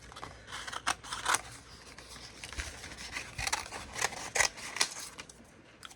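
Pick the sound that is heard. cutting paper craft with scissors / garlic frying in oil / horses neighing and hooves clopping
cutting paper craft with scissors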